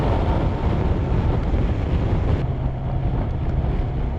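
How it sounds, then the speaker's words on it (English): Steady, roaring wind buffeting around a rider on a 2020 Kawasaki Versys 1000 motorcycle, a dense continuous rush that stays loud for the whole stretch with no voices. "The wind buffeting is still a bit of an issue for me"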